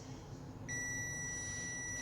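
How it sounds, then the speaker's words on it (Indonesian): A Zotex multimeter's continuity buzzer starts abruptly after a short quiet moment and holds as a continuous high-pitched electronic beep to the end. "Ini untuk buzzer bunyi bip."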